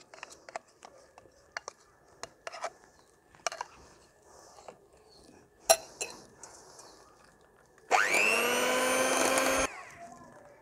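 An electric beater whipping cream at low speed starts up near the end with a steady loud whirring drone, after scattered clinks and small kitchen knocks.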